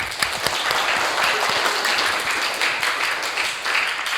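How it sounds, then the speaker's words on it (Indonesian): A classroom of vocational school students clapping together at the end of a lesson, brisk and fairly loud applause with distinct individual claps running steadily throughout. "Berikan tepuk tangan dulu."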